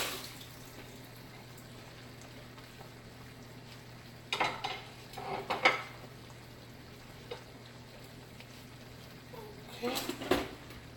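Utensils clinking and scraping against a pot and plate while spicy sticky chicken is served, a few short clustered clatters near the middle and end over a quiet steady hum.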